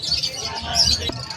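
Pet birds at Malabon Pet Market, including opaline parakeets and cockatiels, chirp in quick high tweets against faint market chatter and background hubbub.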